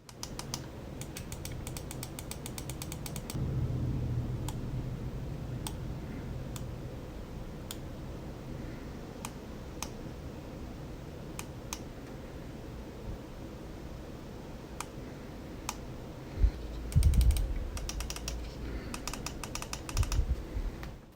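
Crisp clicks from the side buttons of a Vaxee Zygen NP-01 gaming mouse, a steady patter of small ticks across the stretch, close and fairly faint over a soft background hiss, with a few louder knocks near the end.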